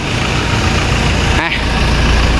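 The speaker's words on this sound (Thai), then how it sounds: "เครื่องยนต์เดินนิ่ง ๆนะครับ" Off-lease car's engine running at a steady, smooth idle, a constant close hum with a brief click partway through, and no talk over it.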